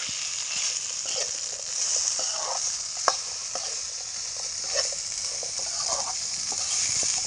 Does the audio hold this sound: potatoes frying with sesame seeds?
yes